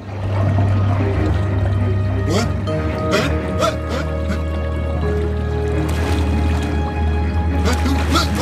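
Water draining in the video game Luigi's Mansion 3, a steady pouring, sloshing rush that runs throughout under sustained game music and tones, with a few brief splashy bursts along the way.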